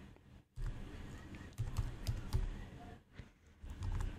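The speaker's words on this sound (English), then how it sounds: "I'm just typing stuff here." Typing on a computer keyboard, a quiet run of close key clicks and taps coming in short uneven bursts with brief pauses between them.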